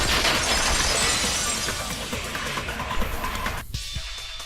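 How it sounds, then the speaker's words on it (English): A vase shatters in the Danganronpa 2 video game, a dense, loud crash of breaking ceramic and scattering debris that fills the clip, then cuts sharply to quieter scattered clinks near the end. "If it wasn't the window, then what broke to make that sound? A vase."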